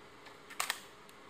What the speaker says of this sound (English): I'm gonna press the shutter now